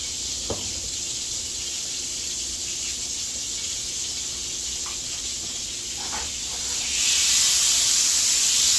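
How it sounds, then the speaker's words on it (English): Onion and spinach sizzle in butter and oil in a hot pan with a steady hiss that grows louder near the end, with a few faint clinks. "Sizzle, sizzle, it says."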